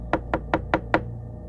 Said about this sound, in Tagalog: at kumatok sa pinto.